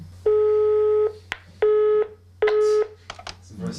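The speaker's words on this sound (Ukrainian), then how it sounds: "О, длинні гудки." Three long electronic telephone tones with short gaps, the last one cut short, followed by faint clicks and line noise.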